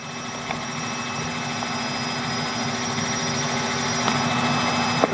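A Robinson R66 helicopter in flight on a VFR route between Elstree and Denham produces a steady, loud cabin drone of turbine engine and rotor, a constant hum with faint periodic ticks and no talk.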